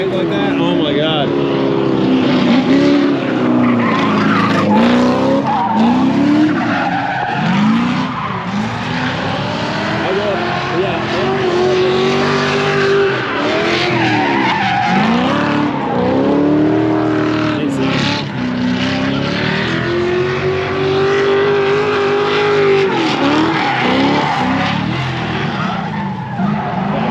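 A V8-swapped Miata drifts at a drift event, its engine roaring and tires skidding loudly and continuously with revving pitch sweeps throughout, with crowd noise and voices mixed in.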